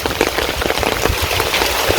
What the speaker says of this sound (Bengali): অনেক সুন্দর বৃষ্টি হয়েছে